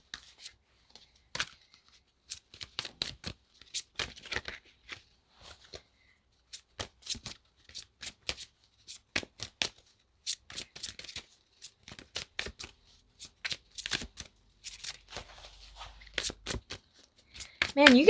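A Soul's Journey Oracle card deck is shuffled by hand in repeated bursts of crisp riffling and flicking. The bursts are separated by short pauses, and the cards sound close and loud throughout.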